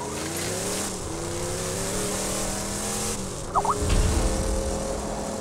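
A zombie Jeep driving in the video game Borderlands 2, a steady engine drone that shifts pitch as it drives, followed by a brief tire squeal and a louder rumble near the end.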